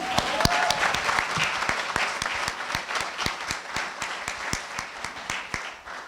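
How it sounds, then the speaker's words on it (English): Audience applause at an awards presentation ceremony, a dense sustained round of clapping from a large indoor crowd with sharp individual claps standing out, steady for several seconds before easing slightly. "Give him a round of applause."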